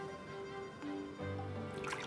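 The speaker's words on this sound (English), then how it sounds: "And you can feel water filling the glass" Water trickles and pours into a glass holding ice cubes, soft and close, with a brief brighter splash near the end.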